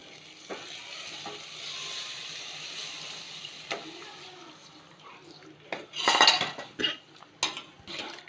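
Metal utensils scrape and clink against a pot while stirring gram flour batter with water, with soft sizzling in the background and louder clatters toward the end.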